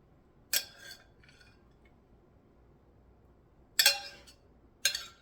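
A food container with a loose-fitting lid handled in a quiet room: three short plasticky clacks and rattles, spread out with silence between, close by.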